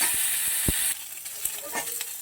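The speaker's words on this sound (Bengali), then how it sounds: "কপিগুলোকে আমি একটু হালকা লাল লাল করে ভেজে নেব" Cauliflower florets fry in oil with a pinch of turmeric in a kadai, a continuous close sizzle that thins partway through, punctuated by a few sharp spatula knocks and stirring scrapes.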